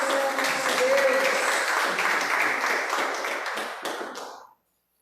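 Applause from a church congregation during a worship service, a dense steady wash of many hands clapping that fades and stops near the end, with some voices mixed in.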